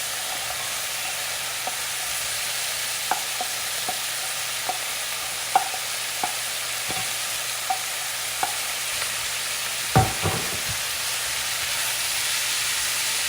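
Asparagus and carrots cook in a pot for a creamy vegetable soup, a steady sizzling hiss broken by scattered soft knocks and scrapes of stirring, with one louder clatter near the end.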